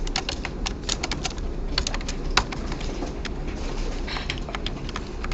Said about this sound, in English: We could just copy and paste those 2 lines to speed up our typing